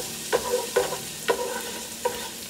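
Chicken searing in a hot pan, a low sizzle broken by four sharp scraping stirs spaced unevenly, close and fairly quiet.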